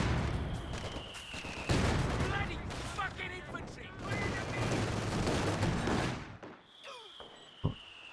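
Mortar counter barrage in a video game match, rapid repeated firing and blasts layered densely under ongoing game sounds, fading out near the end.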